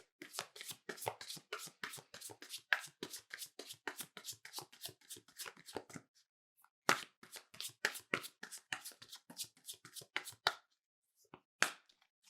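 Tarot cards are shuffled in quick riffles of crisp, close taps, with a brief pause midway, then another run of shuffling and a few final slaps, all quiet and without speech.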